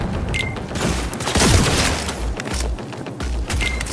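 Sustained burst of gunfire in the Cyberpunk 2077 video game, a dense loud fusillade with booming impacts running through the whole stretch, with no talk over it.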